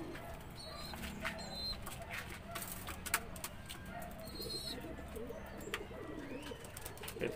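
Young racing pigeons in a loft, soft cooing mixed with scattered chirps, wing flutters and light knocks, close and fairly quiet against a low background rumble.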